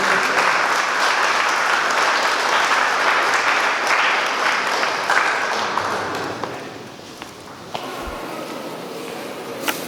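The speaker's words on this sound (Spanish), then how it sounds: "Aplauso para esta pareja." Wedding guests applaud the couple at the close of a church Mass in Ahuehuepan, Guerrero, loud steady clapping that thins out toward the end, with a few sharp taps.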